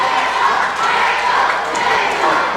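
Wrestling crowd at a Midwest indie show roaring steadily and loudly, a dense continuous wall of cheering and shouting with no break.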